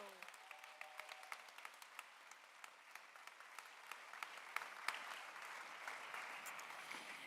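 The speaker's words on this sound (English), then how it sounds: "Let's give our senior musicians another round of applause." Audience applause for senior musicians at a 2021 high school graduation ceremony in Abu Dhabi: crisp individual claps, moderately quiet, building slightly and thickening toward the end.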